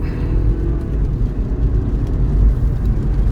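A 2017 Lincoln MKZ with a 2.0 EcoBoost engine peeling out on a test drive, a loud, rough, continuous engine roar with low rumble and tyre noise, brief and close.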